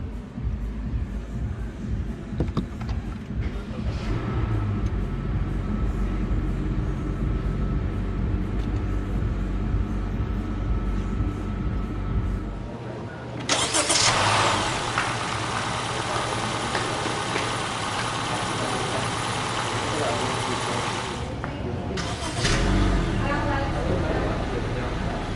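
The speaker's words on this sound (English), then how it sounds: "hit this engine start stop button to fire up the engine" A 2023 Honda City Hatchback 1.5 RS with CVT starts by push button, and its engine settles into a low, steady idle. Someone talks over the running engine before and after the start.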